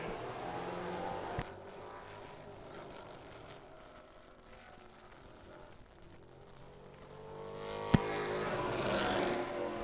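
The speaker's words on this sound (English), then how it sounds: "The green flag is now out for car number 33." Race car number 33 on a qualifying lap at Thunder Road Speedbowl, engine roaring as it circles the short oval, fading mid-lap then swelling louder as it comes back near, with two sharp clicks.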